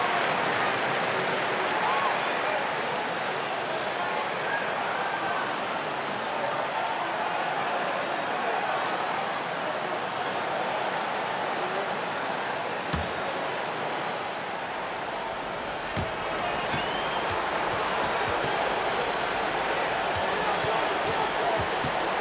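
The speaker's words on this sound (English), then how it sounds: "the enthusiasm, the energy of the crowd, I think it's been a difference maker" Crowd noise in an NBA 2K23 video game basketball arena during a 1995 Bulls versus Knicks game, a steady loud roar throughout with sneaker and ball sounds and commentary over it.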